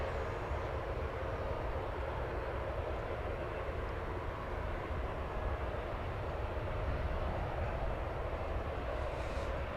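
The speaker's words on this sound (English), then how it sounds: "This is a 16-year-old aircraft." A 16-year-old airliner at DFW Airport produces a steady, broad jet engine roar that holds at an even level for the whole stretch, with no speech.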